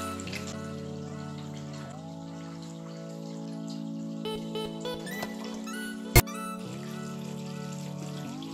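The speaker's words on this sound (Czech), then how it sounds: "Teď si vypustíme polovinu vody a odkalíme" Water drains out of a 60-litre Dennerle Nano Cube aquarium in a steady trickle with gurgles and squeaky tonal whines, plus a sharp knock midway.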